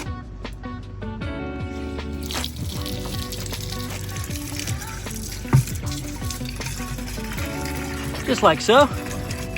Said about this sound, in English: we're going to fill that with water